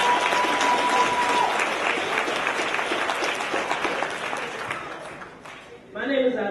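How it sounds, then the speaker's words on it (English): An audience at an evening youth event applauds loudly and continuously. The clapping gradually thins out before a voice begins speaking at the end. "Can you please give a round of applause for the first 15 people in front of me?"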